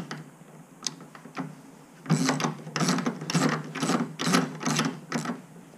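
A hand ratchet tightening bolts in a welding workshop, giving a quick run of sharp clicking bursts that grow louder and more rhythmic halfway through, with no talk.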